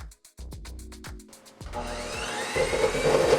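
An electric mixer runs on low speed, beating sifted icing sugar and cocoa powder in a bowl. It starts with a few knocks and bumps, then becomes a steady, fairly loud whirring and churning to the end, with no talk.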